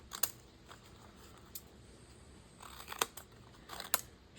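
Scissors trimming napkins and book pages, a few scattered crisp snips and paper rustles up close, clustered toward the end over a quiet room background.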